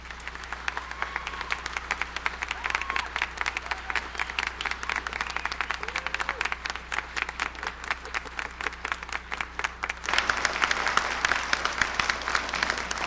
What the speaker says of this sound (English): I invite the parents, families, friends, members of the faculty, and honored guests to join me in applauding your success.